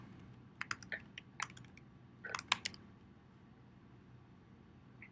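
Short bursts of close computer keyboard typing while entering HTML list code, a few scattered keystrokes followed by a quick cluster of clicks, then quiet room tone.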